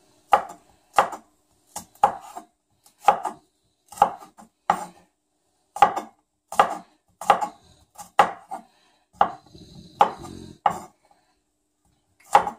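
A knife chops fresh garlic on a board for paella, giving crisp, close thuds in steady pairs and small clusters, evenly spaced over twelve seconds with near silence between strokes.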